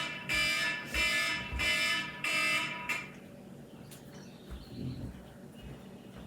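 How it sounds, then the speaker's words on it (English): An alarm beeps loudly in a kitchen in four evenly spaced bursts, then stops, leaving quiet room noise and faint handling sounds. "Sorry, that's my alarm."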